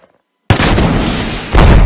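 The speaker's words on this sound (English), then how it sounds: "The Piat anti-tank gun." A PIAT anti-tank gun fires in the Minecraft BlockFront World War II mod: silence, then one sudden loud blast that roars and rumbles on, followed by a second heavy boom at the very end.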